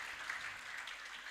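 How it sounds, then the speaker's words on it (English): A graduation crowd at the Uganda Learning For Life Programme keeps clapping in a soft, continuous patter, heard faint and distant for a brief moment. "if you feel like clapping, clap a little bit more"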